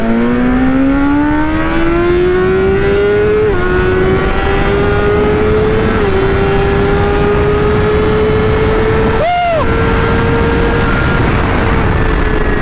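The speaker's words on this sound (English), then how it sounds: "that SC Project exhaust is loud as shit" A sport motorcycle with an SC Project exhaust revs loud and close for a long stretch, its pitch climbing slowly and steadily with brief dips and one sharp blip near the end.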